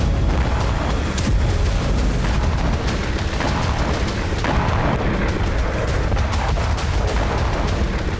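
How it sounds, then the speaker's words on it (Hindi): Explosion at an ammunition depot hit by a Ukrainian drone strike, a continuous loud roar of blasts and crackling detonations with sharp bangs recurring throughout, no voices. "बारूद के भंडार में धमाके से जबरदस्त आग निकली और आसमान धुएं से भर गया।"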